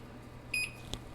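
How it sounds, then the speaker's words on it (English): A kitchen oven timer goes off while buttermilk biscuits bake, giving two short, high electronic beeps close by in a quiet room. "Timer's just about to go off."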